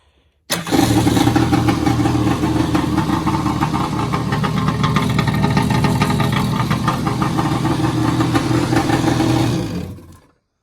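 A round nose Yamaha Superjet jet ski engine starts abruptly and runs at a loud, steady, slightly high idle in an enclosed space for about nine seconds before cutting off.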